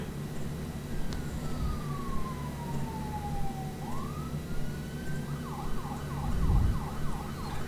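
In the OMSI 2 Bus Simulator game, a police siren wails in long falling and rising sweeps, then switches to a rapid yelp pattern, heard at moderate distance over a low engine and traffic rumble.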